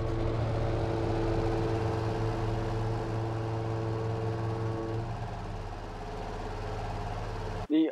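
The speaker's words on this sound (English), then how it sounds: "Let's go ahead and start those engines" Ship engines in the Stormworks game rumble steadily at idle, a low droning hum with tonal layers that thin out partway through, before a brief sharp blip right at the end.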